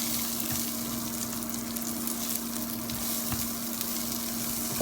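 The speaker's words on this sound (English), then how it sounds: "the fact that we're browning and toasting the rice" Brown rice toasts in a pan for pilaf, giving a steady, close, even sizzle with faint occasional ticks of grains and utensil and a low hum underneath, with no voices.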